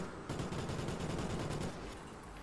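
A Gatling gun in the Call of Duty: Ghosts video game fires a continuous rapid-fire stream of shots for about a second and a half, then stops abruptly, sounding somewhat distant and muffled.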